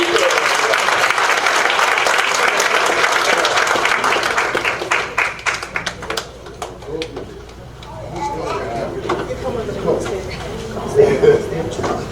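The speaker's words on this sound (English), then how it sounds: "Give them all a round of applause." Loud applause from an audience at a school district board meeting fills the first half, fading into scattered claps, murmuring voices and room noise.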